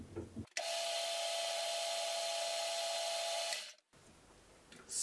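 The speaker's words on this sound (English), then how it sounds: "I'm going to quickly regrind this." A cutting tool is reground on a bench grinder, with a steady, loud, high-pitched grinding whine that runs for about three seconds and then stops abruptly, leaving quiet workshop noise.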